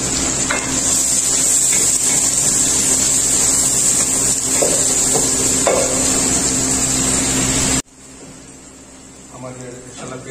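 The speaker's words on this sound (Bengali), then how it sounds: "তারপর আমার পেঁয়াজ কুচি গুলো আছে যেগুলো সেগুলো ঢেলে দিলাম।" Chopped onions tossed into hot oil for an Indian-style fish curry, a loud continuous hiss and sizzle that runs steadily, then cuts off abruptly to a much quieter background.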